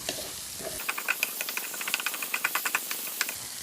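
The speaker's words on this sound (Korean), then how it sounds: "토마토, 블랙 올리브, 토마토가 살짝 느슨해질 때까지 볶아주세요." Tomatoes and black olives sautéing in a pan, a close hissing sizzle with quick crackling pops and light rattling clicks of stirring in a rapid irregular run, moderately loud and without talking.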